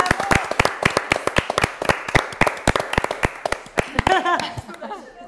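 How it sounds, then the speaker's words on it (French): Studio audience clapping for a contestant in a tourte-baking cooking challenge, a steady run of sharp, close claps with a little laughter and talk, ending in voices. "on peut l'applaudir vraiment, bravo"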